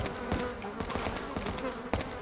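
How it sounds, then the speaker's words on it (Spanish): Flies buzz continuously in Resident Evil 4, a droning insect hum with repeated louder passes as they swirl close, with no voices over it. "las moscas me están molestando bastante."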